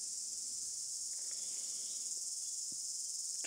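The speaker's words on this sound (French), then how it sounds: "il n'y a pas un bruit, si ce n'est les grillons" Crickets chirp in a steady, dense, high trill in a quiet jungle at night, with a few faint clicks underneath.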